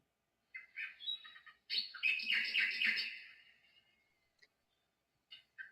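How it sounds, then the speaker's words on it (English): Nightingale song heard at a window in an emperor's tale, a burst of bright chirping trills and warbled phrases, fairly close and clear, with a couple of short quieter calls after a pause and no talking. "Suddenly, he heard music. The nightingale was at the window."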